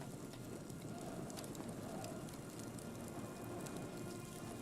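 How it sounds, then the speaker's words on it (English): Bird calls from the video game Alan Wake, scattered chirps and coos over a dense, steady wash of rain-like ambience that runs throughout at moderate level. "God, the frickin' Alan Wake birds."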